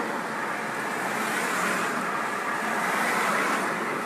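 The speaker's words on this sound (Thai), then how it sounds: "รถเยอะมากเลยวันนี้" Steady roar of dense roadside traffic on a busy Thai country road, vehicles rushing past continuously with no gaps, loud and close, with no voices.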